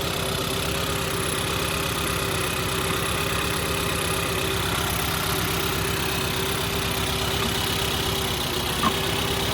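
A car engine with a misfire, suffering a suspected head gasket problem, idles roughly with a steady low rumble and rhythmic shaking pulses, close and continuous with no talk.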